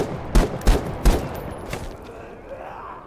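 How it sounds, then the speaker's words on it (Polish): A quick burst of three or four loud gunshots in the survival shooter game The Day Before, sharp evenly spaced cracks followed by fading echoes and quiet ambience. "słyszę tutaj strzały w pobliżu"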